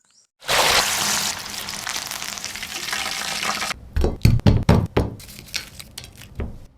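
Food dropped into hot oil erupts into a loud, dense sizzle lasting several seconds, then gives way to a series of sharp clinks and bursts of spattering as the frying continues nearby.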